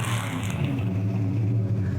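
A rotisserie-restored 1965 Plymouth Fury III runs on a very cold day, its engine a close, even, deep rumble with a slight swell early on.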